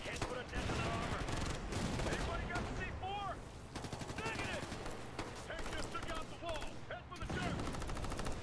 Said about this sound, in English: that's a grenade, and that's going to hit us